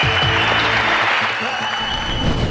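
Warm applause from a quiz show studio audience greeting a round winner, steady dense clapping filling the whole stretch at a constant level with no talk over it.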